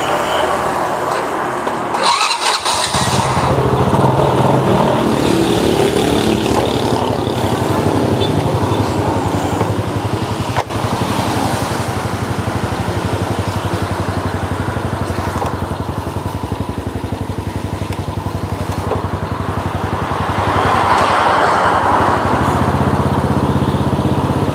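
A Honda Supra motorcycle engine runs continuously up close for a long stretch, a buzzing light-engine drone with a brief rise in revs toward the end.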